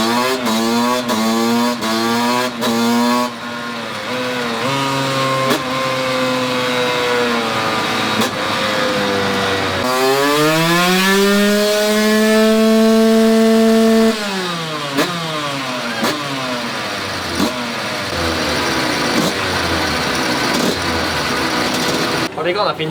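A tuned Yamaha YZ 125 two-stroke dirt bike screams on a dynamometer, its loud engine note climbing and falling through repeated high revs with a long sustained pull near peak, close and dominant throughout.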